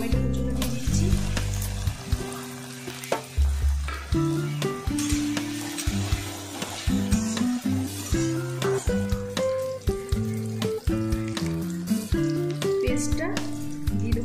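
Chopped tomatoes go into a pan of browned, frying onions for an aloo matar curry, giving steady sizzling and repeated spoon scrapes and stirs under continuous background music.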